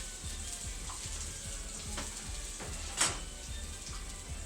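Sausage, garlic, onion and jalapenos brown together in a skillet, giving a soft, continuous sizzle with faint rhythmic scraping and one brief sharper clink partway through.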